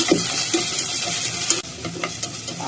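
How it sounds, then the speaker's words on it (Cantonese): Red and green bell peppers stir-fried in a wok over high heat with peanut oil, giving a steady loud sizzle with scraping stir strokes and a brief dip partway through. "咁啲紅綠椒放落去"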